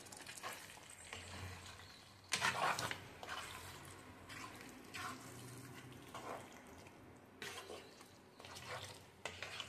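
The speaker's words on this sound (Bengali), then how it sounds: "মাংসটা কষাবো।" Meat being stir-fried in a pan, with soft sizzling and repeated scraping and stirring strokes of a utensil against the pan, fairly quiet and close.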